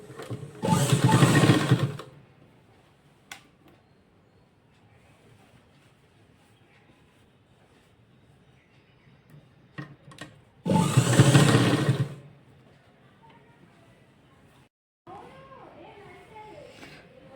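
A home sewing machine stitches a frock, in two short loud bursts of motor whirring separated by a long quiet stretch, with softer handling sounds afterward.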